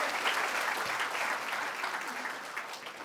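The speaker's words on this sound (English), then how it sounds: "Parents, please encourage them by giving them just a clap." Parents clapping for a young student rank holder at a school annual day, a dense, fairly loud burst of crowd applause held steady for a few seconds.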